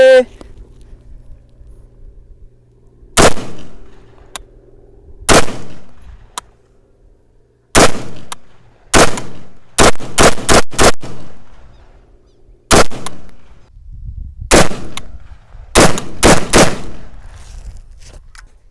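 Loud, sharp rifle shots from TS9 and MD97 rifles, fired one at a time and in quick bursts, with quiet pauses between them and a low background hum.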